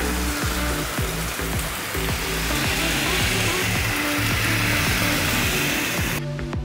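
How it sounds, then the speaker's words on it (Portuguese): Rain pelts an outdoor Ipega KP-CA183 Wi-Fi 360 IP security camera, a steady loud broadband hiss with dense drumming patter throughout, ending in a brief quieter moment. "Vocês vão ver agora o movimento da câmera na chuva."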